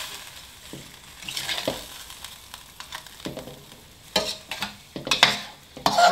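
Chicken simmering in water in a pan for mie ayam, with faint bubbling and intermittent stirring and scraping sounds, quiet and close, no talk.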